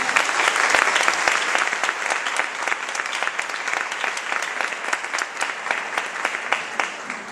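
Congregation applauding during a Pentecost church celebration, a sustained round of hand claps, loudest at the start and gradually settling into a lighter, sparser patter with some individual claps standing out.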